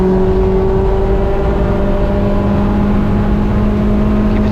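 A race car engine pulls hard on the track at NCM during an ST6 race, holding a loud, steady, close-up drone with a gritty rasp throughout and no voices.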